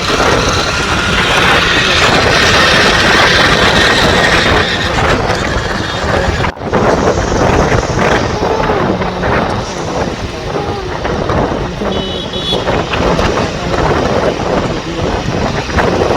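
Steady wind rush buffets the microphone while riding on the back of an Activa scooter on a city road, a loud continuous roar broken by one brief dropout, with faint voices underneath.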